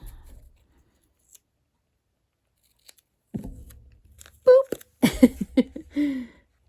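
Scissors snip through paper scraps and ribbon while tags are made, a few sharp close cuts after a quiet stretch, with soft breathy voice sounds among the snips.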